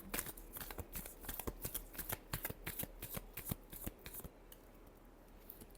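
Tarot cards riffled in a quick run of crisp, close flutters and snaps that settle into quieter soft rustles near the end, with no voices.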